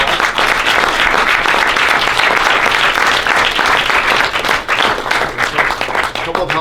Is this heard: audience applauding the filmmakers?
yes